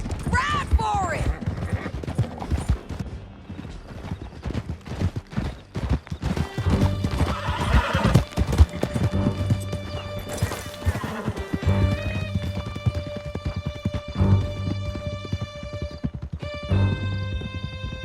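Horses gallop hard through a canyon in Red Dead Redemption 2, with rapid clip-clop hoofbeats, whinnies and a crash over a rising orchestral score. Voices shout at moments during the ride.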